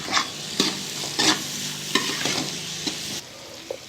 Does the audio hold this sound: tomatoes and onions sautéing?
yes